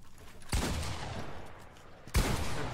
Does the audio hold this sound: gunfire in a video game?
yes